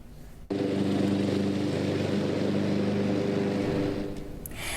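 After a brief quiet start, a lawn mower starts up and drones steadily at a constant pitch while mowing ballpark grass, a continuous motor hum that fades slightly at the end.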